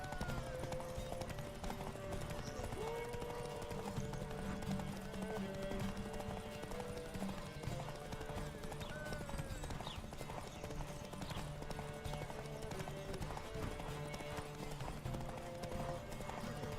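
Hooves clip-clop in a steady galloping rhythm as Geralt of Rivia rides his horse in The Witcher 3, loud and continuous throughout, with occasional game sounds layered over the hoofbeats.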